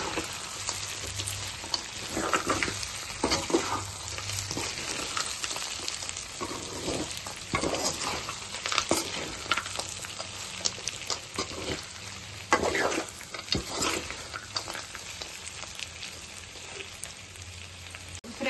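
Sliced okra frying with roasted peanuts and cashews in a pan, a continuous crackling sizzle broken by scraping stirs and spatula knocks, close and fairly loud with no talking.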